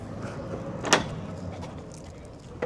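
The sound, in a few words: sliding door of an Adria campervan opening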